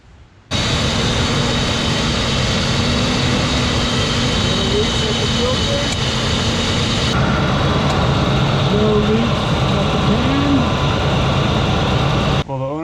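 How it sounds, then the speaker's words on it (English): A 2003 Ford F150 with the 4.6L engine starts up and settles into a loud, steady idle that runs on without a break, with faint voices over the engine noise. "Now we're going to start the motor and check for leaks."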